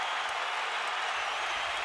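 A boxing arena crowd cheers and applauds in a steady, dense roar of clapping and voices, loud and continuous throughout.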